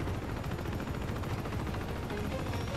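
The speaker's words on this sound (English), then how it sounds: "They're shooting." Enemy gunfire in Uncharted 2, a dense burst of rapid automatic shots firing continuously without pause, loud and close with no talk over it.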